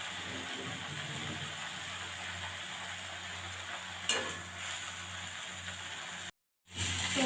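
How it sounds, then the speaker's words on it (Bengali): Fish frying in a pan of oil, giving a steady crackling sizzle throughout with a brief clatter near the end, then a short break before the sizzle resumes. "বন্ধুরা মাছগুলো ভাজা হয়ে গেছে এবার তুলে নিচ্ছি অন্য পাত্রে"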